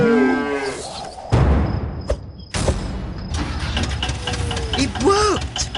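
A cow moos in the PC video game Hector: Badge of Carnage – Beyond Reasonable Doom. The loud, drawn-out lowing opens the scene, followed by rumbling engine-like noise and other game sound effects.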